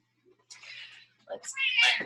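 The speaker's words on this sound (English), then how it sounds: "Oh, the cat's going to jump up." A pet cat meows indoors, drawn-out high cries, one short then a louder longer one, fairly close, with a person talking nearby.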